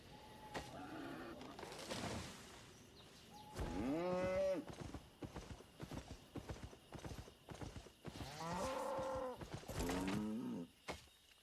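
A cow lows twice in the video game Albion Online, a drawn-out moo near the start and another later, set against repeated hoof clip-clops and other faint game sounds, with no talking.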